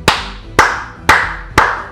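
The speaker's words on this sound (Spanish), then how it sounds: "Aplausos para Kylian Mbappé" Four sharp, evenly spaced claps ring out loud and close, about half a second apart, with no voices.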